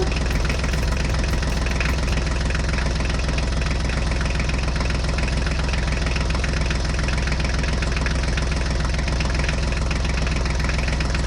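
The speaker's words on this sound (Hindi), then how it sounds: "अब चलो हम हमारी ट्रैक्टर गाड़ी को लेकर चलते हैं बच्चों।" A mini tractor's small engine runs loudly and steadily nearby, a rough, knocking drone that never lets up.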